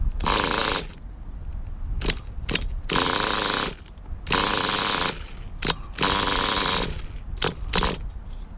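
A Hyper 7 engine, just fitted with new parts, runs in loud, rough mechanical bursts that cut in and out, with short gaps and brief blips between the longer stretches.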